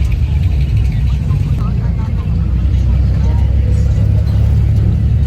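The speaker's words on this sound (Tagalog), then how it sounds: "Nakasakay tayo ng jeep dito sa Pinas." Riding inside a jeepney in the Philippines, the diesel engine gives a constant loud low rumble with road noise, while a voice talks over it.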